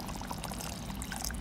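Tamarind water poured into a clay cooking pot while making Palakkad-style pot rice, a steady close splashing pour that runs unbroken across the whole short moment.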